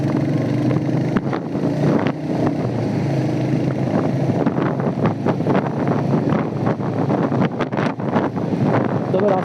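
A Hunter 350 motorcycle rides a dusty off-road track past dumpers, with a steady engine drone heavily buffeted by wind noise across the microphone throughout, loud and continuous with brief gusty bursts.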